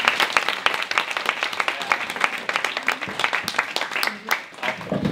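An audience at a Swedish book event gives a dense, sustained round of applause, with many hands clapping close and loud for about five seconds and a brief lull near the end.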